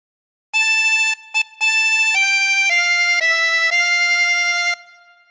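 A harmonica plays a short phrase from Hark the Herald Angels Sing, using bent notes. It opens with a few quick separate notes, then moves into a smooth run of held tones, heard close and solo.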